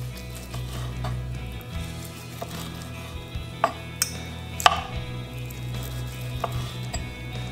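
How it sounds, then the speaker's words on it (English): Country style ribs being sliced thin with a knife for Southern tacos, a few sharp cutting strikes standing out over a steady low hum and a soft sizzle in the kitchen. "Just real thin slices."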